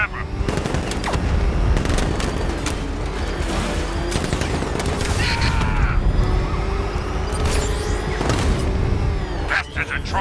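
Gunfire in the Batman: Arkham Knight video game during a vehicle chase, dense rapid bursts of shots and crashes with mechanical clatter, loud and continuous throughout.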